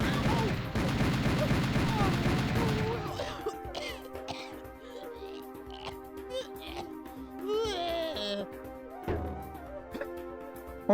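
Gunfire in the Serious Sam: The First Encounter video game, a dense burst of rapid shots up front, then scattered game effects and sounds under someone talking.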